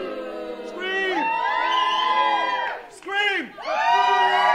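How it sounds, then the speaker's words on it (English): A theme-park street-show audience at Epcot screams and whoops on cue, loud sustained crowd yelling in several surging waves with brief dips between bursts. "Everyone over here, scream and cheer."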